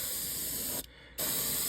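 An airbrush spraying paint onto a fishing lure gives a steady, close hiss of air and paint, broken by one short pause before the spray resumes at full strength.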